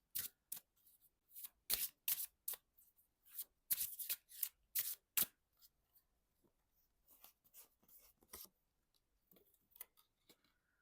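Dream Song Oracle cards are shuffled by hand in close, crisp bursts of riffling and flicking, loud at first, then softer and sparser toward the end, with no voice.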